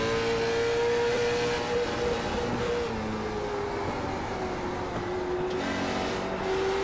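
Late model race cars race in the iRacing video game, a continuous dense engine drone with a gently shifting pitch as the pack holds speed, loud and without talk.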